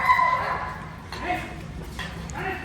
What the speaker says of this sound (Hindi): सारे डॉग चले गए इसलिए वो भौंक रही है कंटेनर के अंदर।